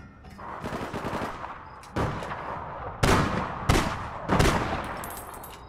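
Pistol gunfire in the video game APB Reloaded, a handful of sharp separate shots spaced about a second apart over a busy background of distant game noise.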